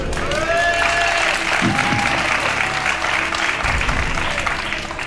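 A television game show studio audience claps steadily, a dense, sustained wash of applause lasting several seconds with faint voices and tones underneath.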